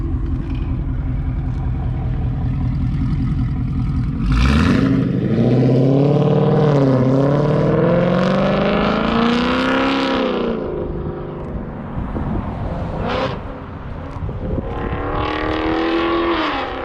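Ford Coyote V8 fitted with Kooks headers revs hard and loud close by, its rough idle surging into a sustained high-rpm wail with rising and falling pitch, then dropping back to a burbling idle before another rev.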